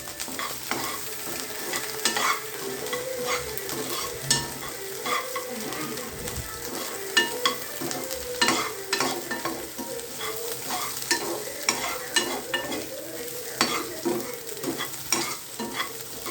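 Salted food being stirred in a pan with steady scraping strokes over a continuous sizzle, close and fairly loud with no talk.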